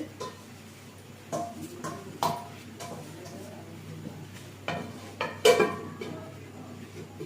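A metal lid set onto a cooking pot while making suji chhanar borfi, several clanks and clinks of cookware against a soft kitchen background, moderately close, with no talking.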